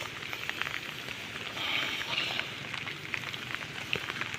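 Steady rain patters on a surface, a continuous dense hiss of drops with no voices, moderately loud and close.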